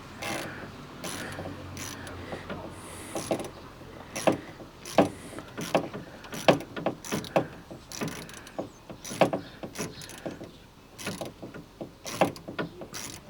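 A hose clip on the cooling system of a Lotus Esprit is undone with a ratchet tool, giving a steady series of close, sharp metallic ratchet clicks in short bursts with no talk.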